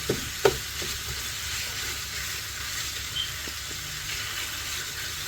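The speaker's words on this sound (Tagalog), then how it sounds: "halo halo lang po hanggang sa ma-prito ng konti yung baka yan" Beef sizzles steadily in a pan while a utensil scrapes and stirs, with a couple of sharp clacks near the start.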